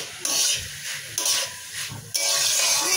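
Sizzling frying in a pan during cooking of a Bengali dal dish, a steady broadband hiss that surges in louder bursts as the food is stirred, with no talking.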